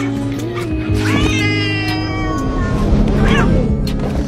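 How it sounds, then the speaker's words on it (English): Loud, close cat meows and drawn-out yowls overlap in quick succession, agitated and squabbling. "Then a human-cat fight ensued."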